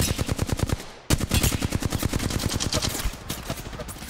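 Rapid automatic gunfire in the PUBG video game aimed at the player, a loud, close, evenly spaced stream of shots with a brief pause before the firing resumes and continues steadily, no talk over it.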